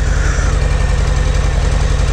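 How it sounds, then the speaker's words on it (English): A Harley-Davidson Heritage motorcycle idles with a louder exhaust, a loud, close, steady low rumble with an even pulsing beat and no voices. "Motor sounds good. A little louder exhaust that idle."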